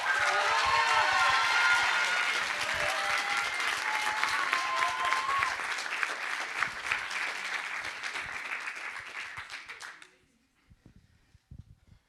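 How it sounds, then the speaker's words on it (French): An audience at a student research-presentation contest gives the candidate loud, dense applause that holds strongly for about ten seconds, then stops abruptly, leaving a quiet room. "je vous demanderai s'il vous plaît de l'encourager et de lui faire un tonnerre d'applaudissements"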